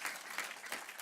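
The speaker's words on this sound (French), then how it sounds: "On peut l'applaudir." Applause from an audience at a PredictionDay 2014 talk, a short burst of clapping with repeated swells, fairly quiet and heard on its own.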